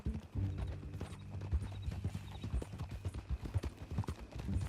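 Steady clip-clop of horse hooves close by in the video game Red Dead Redemption 2, a quick uneven rhythm of hard taps over low music, with a brief whinny-like sound.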